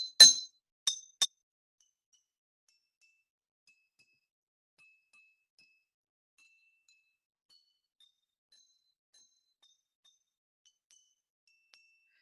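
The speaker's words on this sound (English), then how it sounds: "If I hit the glass" A drinking glass holding water is struck three times in quick succession, bright ringing taps that fade fast, followed by a long stretch of near silence.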